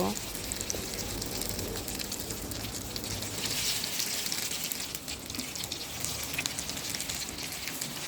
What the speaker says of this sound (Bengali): মাছ ভাজা গরম গরম অবস্থায় ডিমের ভিতরে উল্টে পাল্টে দিয়ে আবার একটু ভেজে নেব